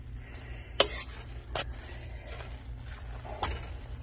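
Vegetables and noodles tossed with teriyaki sauce in a pan, a soft steady sizzle under a few sharp utensil scrapes and clacks, close and fairly quiet.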